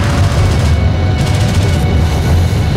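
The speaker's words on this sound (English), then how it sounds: "Hostile railguns have opened up." Railgun fire roars across a battlefield in the strategy game Homeworld: Deserts of Kharak, a dense sustained rumble of booming low-end blasts that fills the whole stretch with no clear gaps.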